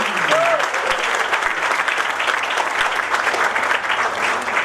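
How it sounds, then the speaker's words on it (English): Loud, continuous audience applause filling a hall as a speaker is welcomed on stage at a student event, steady throughout with a faint voice briefly audible early on. "let's give a massive round of applause and welcome on stage our second speaker"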